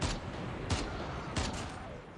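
Gunfire in Call of Duty Mobile zombies mode, a video game, comes as three sharp shots at regular intervals over a dense, steady game-noise background, moderately loud with no voices.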